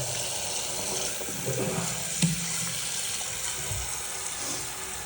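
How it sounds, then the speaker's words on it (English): Hot water runs steadily from a tap in a Gran Canaria apartment, a constant close splashing hiss with slight fluctuations and no talking. "Gran Canaria hot water"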